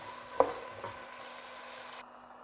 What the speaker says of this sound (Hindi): अब इसकी अच्छे से भुनाई कर लेते हैं ताकि आलू थोड़े गल जाएं